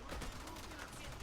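Sustained firing of the Kuva Nukor beam weapon in Warframe, a dense, steady buzzing crackle with no pauses, fairly loud and filling the short moment.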